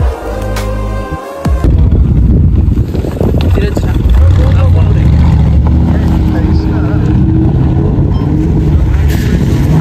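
Land Rover Defender and Mercedes G-Wagon exhausts rumble loudly on an off-road track, a deep continuous engine roar with wind buffeting the microphone and people talking over it.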